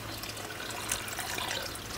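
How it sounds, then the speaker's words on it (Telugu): Water is poured into a pan of stuffed tomato and potato curry, giving a steady splashing, trickling wash that runs the full two seconds at moderate level with no talk. "1/4 లీటర్ నీళ్లు పోసుకుందాం"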